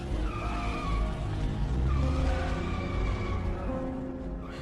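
A car in a parking garage film scene skids hard, its tires squealing loudly and continuously over a roaring engine, close and sustained before easing off.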